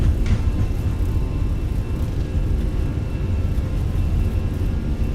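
Jet engines of a Fenix A320 at takeoff thrust in Microsoft Flight Simulator: a steady, loud, low rumbling roar that holds evenly throughout with no voices.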